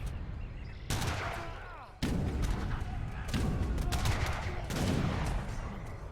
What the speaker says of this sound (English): Knuschelbär gets some shots off onto the Janissaries